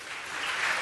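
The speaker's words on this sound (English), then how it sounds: "Let's give them another round of applause." Brief burst of steady applause from the audience at a city council meeting, a dense even patter of many hands at moderate level with no voices over it.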